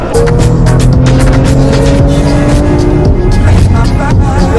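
Porsche 911 GTS Targa 4 driven hard on a test track, a loud, close engine note rising and holding steady with faint tire noise, continuous throughout without talk.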